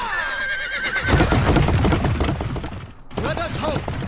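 A horse whinnies near the start in the Prince of Persia: The Two Thrones video game, followed by loud galloping hooves and game action sounds as the ride begins, with a brief dip before the clatter resumes.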